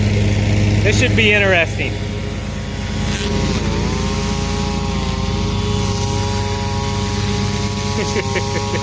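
A lawn mower runs steadily on grass close by, its engine droning continuously with a brief rise in pitch, while a person speaks over it near the start.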